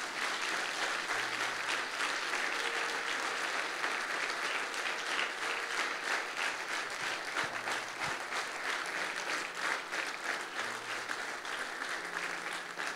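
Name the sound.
audience applauding loudly at a church service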